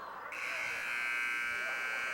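A high school basketball game buzzer, Waterbury Kennedy against Seymour, sounds a loud sustained electronic buzz that cuts in after a brief moment of crowd noise and holds steady to the end.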